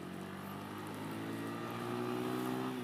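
A Road Prince Wego 150 (BYQ-150) motorcycle engine hums steadily on a test ride, a continuous droning tone that rises slightly in pitch toward the end, with wind noise and no speech.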